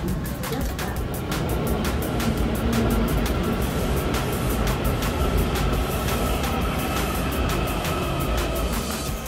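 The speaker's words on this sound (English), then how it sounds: "Oh, the metro's here." A DC Metro train, loud and close, with a steady rumbling roar and rolling rail noise throughout, plus periodic clicks from the wheels passing over track joints.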